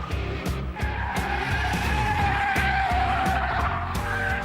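A Mazda RX-8 race car skids through a hairpin corner with sustained tyre squeal over a rough, pulsing engine note, loud and close throughout.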